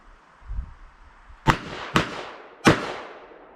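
A Smith & Wesson Model 15 revolver in .38 Special fires three sharp, loud gunshots, each followed by a brief echoing tail, with uneven gaps between them and a soft thump just before the first.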